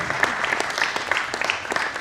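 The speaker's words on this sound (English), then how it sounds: "round of applause, round of applause" Audience applause fills a film festival media launch event, a steady dense patter of many hands clapping throughout, moderately loud with faint voices beneath.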